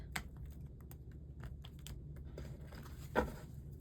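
Tarot cards are shuffled in a loose, chaotic way, making irregular soft flicks and papery taps, with one sharper slap of cards near the end. The shuffling is close and fairly quiet.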